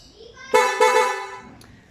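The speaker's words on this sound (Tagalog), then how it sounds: "So, yun yung sound ng ating mock horn." A loud, bright aftermarket mooc horn on a Honda Beat scooter blares twice in quick succession, the second blast held longer, close to the microphone.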